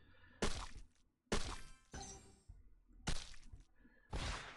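Several sharp bursting blasts from rocket boosters in the Toon Blast mobile game, each a crisp clattering impact with a short tail, coming in uneven succession with quiet gaps between.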